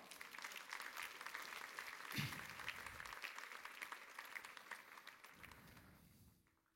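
Applause from a church congregation fills the space, steady and dense at moderate distance, swelling briefly before fading out near the end.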